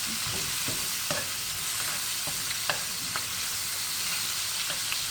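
Chicken skin frying in oil over medium heat to render fat and crisp the skin, a steady dense sizzle with occasional utensil scrapes and stirs, close and continuous with no talking.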